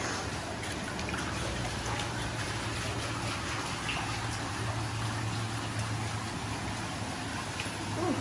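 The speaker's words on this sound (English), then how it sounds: "So here we are, in the tunnel, next to the waterfall." A waterfall inside a tunnel makes a steady, dense rushing roar that continues unbroken from start to finish.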